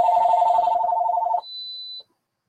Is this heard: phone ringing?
yes